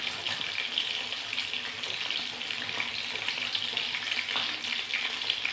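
Lote fish (Bombay duck) coated with egg fries in oil, producing a continuous, even, close-up sizzle and bubbling hiss with no pauses.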